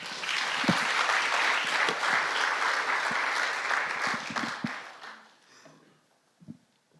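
A crowd gives a team warm, full applause on the final stage of a data project challenge, holding steady for several seconds before it tapers off to near silence, with one small tap near the end.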